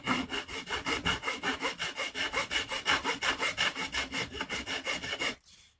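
A metal file scrapes the overhanging fret ends along the edge of a guitar fretboard, about two dozen quick, even back-and-forth rasping strokes close up before it stops.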